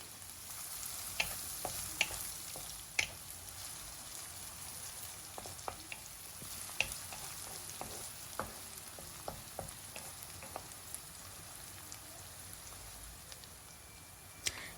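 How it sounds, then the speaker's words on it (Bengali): Chopped onion fries gently in oil with cinnamon and cumin, a faint steady sizzle dotted with sparse crackles and an occasional stirring tap, with no talking. "এবার পেঁয়াজটাকে তেলের সাথে খুব ভালোভাবে মিশিয়ে নিচ্ছি"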